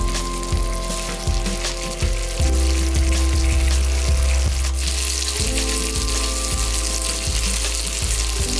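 Spicy meatballs and chicken sausages brushed with sauce sizzle steadily in a pan over medium heat, a loud continuous frying hiss with low clicks and knocks from the pan throughout.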